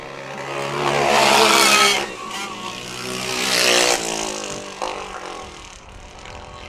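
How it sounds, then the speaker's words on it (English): High-horsepower racing karts at Tucson Kart Speedway, their engines swelling loudly as they pass close through the turns, with two strong revving passes and fainter engine whine in between. "Looks like the high horsepower karts are having a little trouble in the turns."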